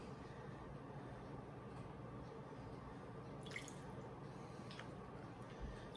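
Bottled water pours in a soft, steady trickle in a kitchen, close but quiet, with a couple of faint drips and no talking.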